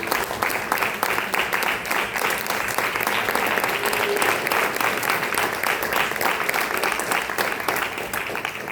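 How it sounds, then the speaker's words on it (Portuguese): A church congregation claps steadily for several seconds during a worship service, a dense, even wash of many hands filling the room with no voices over it. "dá uma linda salva de palmas para o Senhor Jesus"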